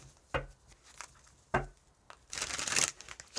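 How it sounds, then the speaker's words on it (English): Tarot cards are shuffled by hand in a few separate bursts: two sharp riffling slaps, then a longer crisp rustling flurry toward the end, close and clear with no talking. "Give these cards a good shuffle."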